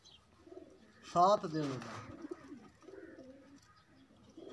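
Racing pigeons in a loft coo in a short burst of soft, throaty calls near the microphone, with someone talking throughout.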